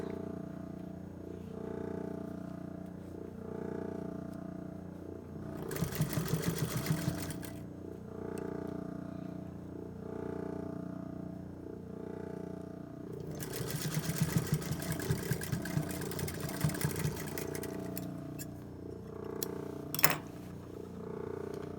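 A sewing machine stitches a cuff seam on a men's tailored shirt, running in two steady whirring bursts over a low hum, with a sharp click at the end.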